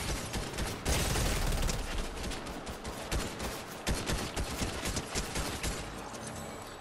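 Dense, continuous gunfire in a Fortnite duos match, rapid overlapping shots and impacts forming a loud, busy wall of sound with a heavy burst near the start and no clear talk.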